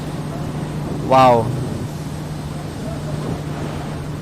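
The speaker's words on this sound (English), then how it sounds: "And you really hear the gusts of wind coming inside." Wind gusts rush through an open cockpit window in a VR flight simulator, a steady airy roar and drone throughout, while a voice briefly exclaims over it.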